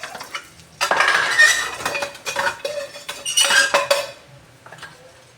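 Homemade steak fries are tossed in a metal bowl, giving a series of clinks and scraping rattles in uneven bursts, close and fairly loud with no talking.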